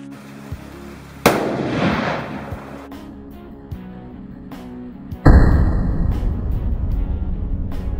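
A Sako rifle fires twice outdoors while zeroing at 25 yards, with a loud sharp crack near 1.3 seconds and a heavier blast near 5.3 seconds, each followed by a rumbling echo that decays slowly.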